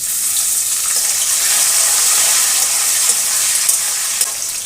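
Chopped tomato hits a pan of browned onions on high flame for a cauliflower curry, setting off a loud, continuous hissing sizzle that holds steady with faint scraping.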